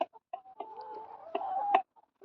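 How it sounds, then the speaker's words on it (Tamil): Bahamas-breed chickens cluck close by in Denmark, a few short clucks followed by a longer drawn-out call with sharp peaks, then quieter scattered clucks. "கோழி இது பேருக்கு பஹாமஸ் பாருங்க பஹாமஸ் கோழி இது"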